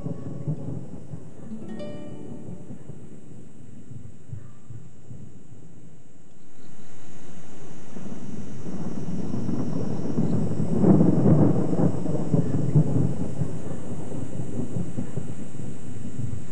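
A northwesterly monsoon thunderstorm rolls in on an early summer afternoon in the grassland, with thunder rumbling, then a steady rush of rain that grows louder and persists to the end.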